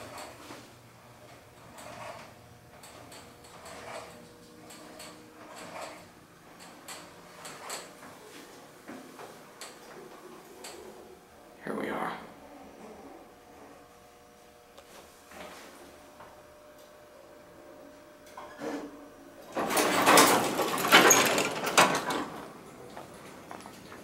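Schindler hydraulic elevator doors at a Sears store in Phoenix slide open and shut, a rumbling mechanical travel with soft clunks that swells into a loud, broad rush near the end.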